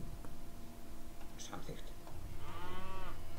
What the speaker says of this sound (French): Les 3 vaches là, je les emmène sur l'île.